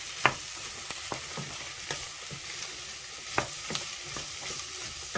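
Vegetables softening in a pan for a vegan korma sizzle steadily while a utensil stirs them, scraping and tapping against the pan in irregular strokes, close and clear with no talking.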